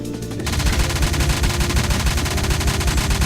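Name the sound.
gunfire in a video game, Renegade Line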